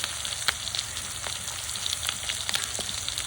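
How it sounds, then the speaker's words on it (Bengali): Pangas fish sizzling steadily in a little oil, a constant crackling fry with scattered small pops, fairly quiet and unbroken by talk. "একটু দূর থেকে মাছটা ভাজবেন"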